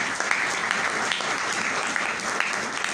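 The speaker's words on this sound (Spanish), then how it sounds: "fuertes aplausos" Strong applause from a large audience at a religious gathering, with many hands clapping in a continuous, even wash for a few seconds and no clear speech on top.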